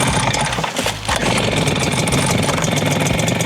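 A Kama HD-999 engine leaf blower starts with a sputter and brief dip, then settles into a loud, steady, buzzing small-engine idle close by.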